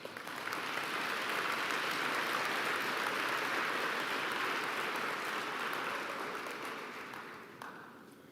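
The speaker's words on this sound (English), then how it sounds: "I do believe that the graduates deserve another round of applause" Audience applause for graduates at a university graduation ceremony, a dense, sustained roar of many hands clapping from a large hall that swells quickly, holds for several seconds and then tapers off.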